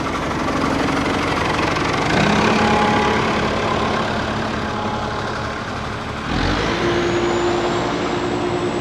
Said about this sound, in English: Tractor moving dumps.